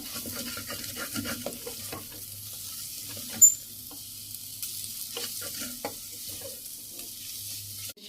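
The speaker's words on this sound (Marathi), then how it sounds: "पावभाजी मसाला टाकून घेऊ चांगला हलवून घेऊ एकदा" Pav bhaji masala with turmeric is stirred in a pressure cooker, a quiet steady sizzle with light scraping and spoon taps spread over several seconds, close and fairly soft.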